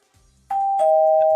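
A doorbell rung by trick-or-treaters sounds loud and close, a sustained electronic ding tone struck twice in quick succession and held, after a moment of faint low rumble.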